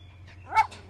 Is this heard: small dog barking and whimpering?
yes